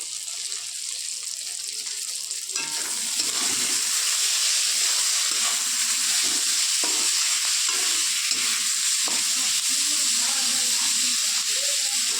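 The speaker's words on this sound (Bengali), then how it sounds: "একটু ভাজা ভাজা করবো।" Loud, steady sizzling of chopped ginger and spices frying in hot oil with boiled chicken, swelling after a few seconds, with occasional stirring scrapes underneath.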